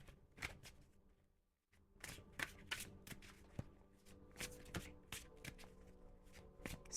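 Tarot cards being shuffled and pulled by hand, a quick series of crisp riffling snaps and slaps close up, broken by one brief pause, with no talking.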